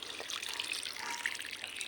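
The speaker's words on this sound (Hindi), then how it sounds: "तो इसमें पहले हम देंगे सबसे पहले पानी।" Water pours softly and steadily into soil in a pot in a terrace garden, a faint, continuous trickle with no voices.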